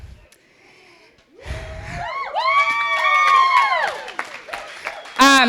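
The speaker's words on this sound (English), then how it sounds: "They're definitely cheering because I've been telling them what to do all week" Wedding guests cheer and shout during a maid of honor speech, a crowd swell of whoops and high excited voices rising after a quiet pause and continuing loudly, with a burst of noise at the end.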